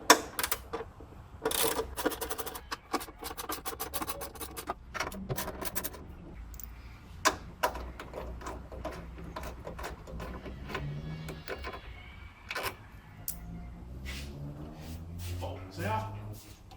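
A ratchet or hand tool clicks rapidly while bolts are removed from a broken windshield wiper linkage, with dense mechanical ticking and rattles close by and intermittent talk in the background.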